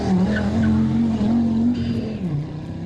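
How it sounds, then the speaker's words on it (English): A rally car at the Jersey Rally makes a handbrake turn, its engine droning loud and close with a sustained tire skid across a few seconds. "John Linoa going for the handbrake trophy"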